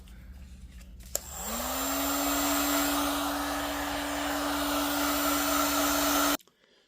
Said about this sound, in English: Really a helpful tool is a heat gun like this.